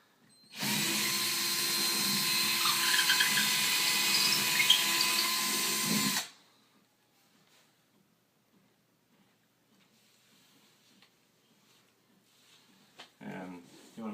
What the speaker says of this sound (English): I'm going to bore this out a little bit